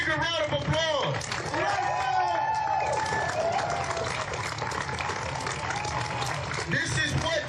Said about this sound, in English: Can we give my man a bigger round of applause?